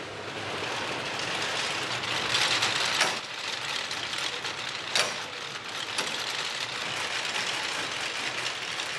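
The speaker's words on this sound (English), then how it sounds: "In a corner of the workshop stands a unique machine, the only one of its kind in the world. It was designed by the great Leonardo da Vinci." A unique historic machine built to a Leonardo da Vinci design, standing in a Florence workshop, runs with a steady clattering ratchet-and-gear rhythm, close and loud, with sharper knocks now and then.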